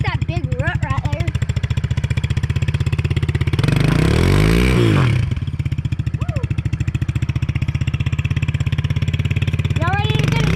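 A dirt bike engine chugs steadily and close by during a night ride, surging into a loud rev in the middle before settling back to a throbbing run. Voices talk around it.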